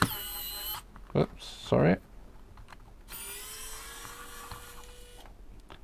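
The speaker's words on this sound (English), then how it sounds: "And now we can unscrew." A KAIWEETS ES20 electric screwdriver unscrews a screw to open a device, giving two short, close motor whirs with a brief pause between them, amid a voice speaking and some background noise.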